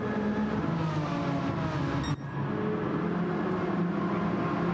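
Race car engines drone steadily at high revs during a racing game event at Blue Moon Bay, a continuous loud whine with a brief dip midway as a car shifts or passes, and no voices.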